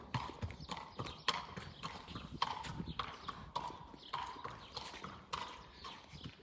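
Stallion's hooves clip-clopping in a steady, even rhythm at close range, with faint voices in the background.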